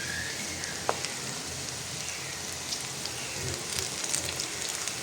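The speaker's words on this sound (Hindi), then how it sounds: "यहाँ पकौड़े फ्राई हो रहे हैं" Pakoras, gram-flour fritters, bubbling and crackling in hot oil in a home kitchen, a steady dense sizzle throughout with a few small pops, moderately close and without talk.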